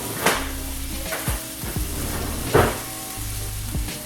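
Filet mignon sizzling in rosemary-infused European salted butter in a pan: a steady close crackling fry with a few louder spoon scrapes and clinks against the pan, no voices.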